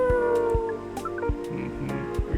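A cat meows a few times inside the video game Coffee Talk, set against steady background music with soft percussive beats.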